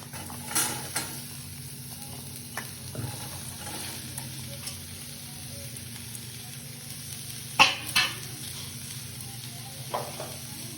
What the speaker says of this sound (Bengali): ক্যাপসিকাম কুচো, লঙ্কা কুচো আর পেঁয়াজ কুচো, এগুলো এবার কড়াইয়ের মধ্যে দিয়ে দেবো